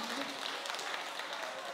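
Audience applause at a 60th diamond wedding anniversary celebration, honoring the accompanist: a steady dense wash of clapping from a room of guests, moderately loud and continuous throughout.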